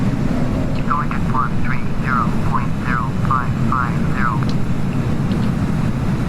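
An Embraer E-195 airliner comes in to land in Flight Simulator X. A steady, loud engine roar runs throughout, with a voice speaking over it.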